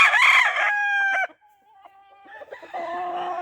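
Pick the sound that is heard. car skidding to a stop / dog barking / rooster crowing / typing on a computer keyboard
rooster crowing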